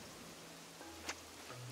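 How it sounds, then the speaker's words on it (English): Soft rain falling in the video game Animal Crossing New Horizons, a faint steady patter with a brief chime-like blip partway through and no speech. "I was actually kind of hoping it wasn't gonna rain. Rain actually makes my job harder."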